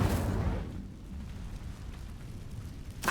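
Incendio fire spell being cast in Hogwarts Legacy, a single loud whooshing burst of flame at the start that fades into a low, rumbling roar.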